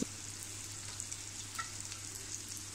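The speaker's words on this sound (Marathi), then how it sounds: "आता मी हे सुरमई मंद आचेवर तळत ठेवले आहेत" Soft, steady sizzle of king mackerel (surmai) frying gently in oil on low heat, quiet and continuous with faint crackles and a low hum underneath.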